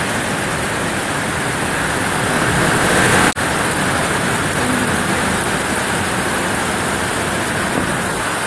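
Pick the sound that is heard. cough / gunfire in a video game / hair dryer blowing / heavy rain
heavy rain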